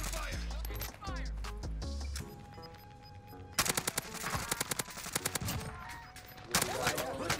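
Bursts of rapid Krig rifle gunfire ring out in Call of Duty Warzone, loud repeated shots in clusters mixed with other game sounds while a person talks over parts of it.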